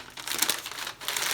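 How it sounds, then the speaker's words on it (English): Paper is crumpled and folded by hand into a pillow shape, a brief, close burst of crisp crinkling with a short pause before more crackle. "fold it and crumple it all the way around"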